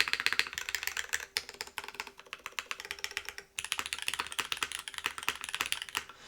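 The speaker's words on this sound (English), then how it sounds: "The spacebar has like a lot of volume now, and it almost feels like, yeah, it feels like deep in a way" Fast, crisp clacking of typing on a custom Cloudline V2 mechanical keyboard, close and clear, in a steady flurry of keystrokes with a brief pause midway before resuming.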